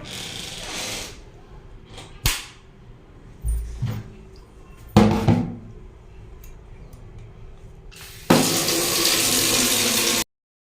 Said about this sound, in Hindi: पानी ऑन करके आती हूँ मैं।